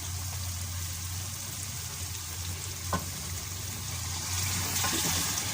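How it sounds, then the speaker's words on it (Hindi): Water pours steadily into a hot pot of beef kofta curry, hissing and sizzling continuously, and the splash grows a little louder near the end. "तो मैं इसमें जो हूँ अभी पानी डालूँगी।"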